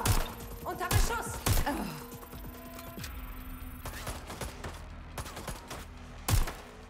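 Scattered gunshots from a firefight in the video game Watch Dogs: Legion, several sharp cracks spread over a few seconds among softer thuds and background game sounds.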